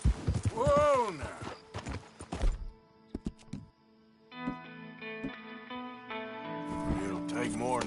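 Hooves clip-clop in the video game Red Dead Redemption 2. Sharp, close hoof knocks break into irregular runs, a horse neighs near the start, and a voice calls out over sustained musical tones.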